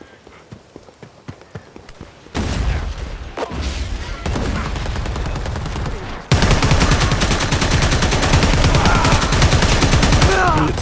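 Rapid gunfire bursts from Predator: Hunting Grounds game combat, dense and loud, continuing over sustained action noise with a sharp jump in intensity partway through.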